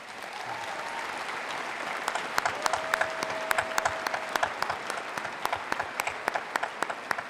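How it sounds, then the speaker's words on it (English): A commencement audience at the Oregon Institute of Technology's 2019 Klamath Falls ceremony applauds graduates, a steady wash of hand-clapping across the hall with sharper nearby claps popping out as it continues. "please rise or raise your hand so we can recognize you with a round of applause"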